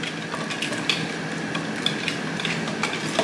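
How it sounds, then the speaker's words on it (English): Batter of eggs and vanilla stirred by hand with a spoon in a bowl, a close, continuous clinking and scraping with irregular sharper knocks against the bowl's sides and no voices. "Keep mixing, keep mixing."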